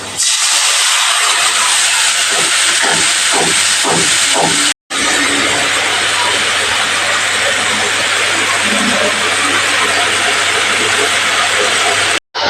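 Loud, steady sizzling and hissing of a soaked spice paste hitting hot oil for a fish curry with vegetables, with a few clinks and a short break in the sound.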